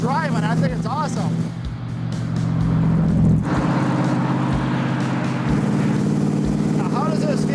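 Factory Five Mk5 Cobra being driven, a deep steady engine rumble with shifts in pitch as it accelerates, heard from inside the car beneath people talking.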